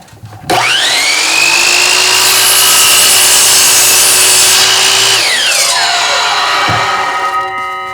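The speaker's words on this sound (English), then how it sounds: "another safety feature is one hand is required on top of the miter saw" A miter saw spins up with a rising whine and bites through wood in one loud, steady cut lasting several seconds, then the motor winds down with a falling tone.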